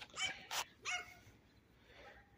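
Several dogs, German Shepherds and a Collie, bark in a few loud, sharp bursts close by, followed by a fainter bark trailing off.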